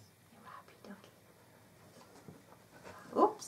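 A dog gives a soft, brief whimper near the end, faint against low background noise and a quiet voice.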